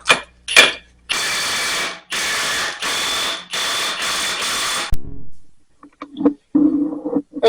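A tool tightens the rear axle nut on a 2008 Ford Escape in about five loud, even bursts of rapid ratcheting, followed by a few quieter clicks and light knocks.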